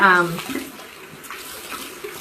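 Warm water runs from a tap while a face mask is rinsed off, a steady splashing flow that starts louder and continues at a lower, even level throughout.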